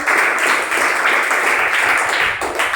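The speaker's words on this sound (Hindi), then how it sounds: "तालियां इनके लिए" A class of fifth-grade students claps for a classmate who answered a question, a short, busy burst of many hands at steady loudness from start to end.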